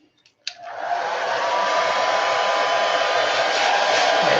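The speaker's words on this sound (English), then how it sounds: "Okay, dry that." Hair dryer blowing on a gelli print to dry the paint, switching on after a brief click and then running as a steady, loud, continuous whoosh.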